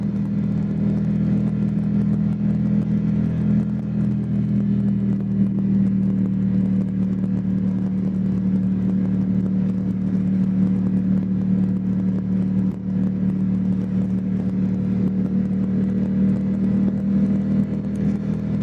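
Motorcycle riding up Mulholland in Los Angeles traffic, its engine a steady mid-pitched drone with a constant low hum and wind rush, loud and unbroken throughout with no talking.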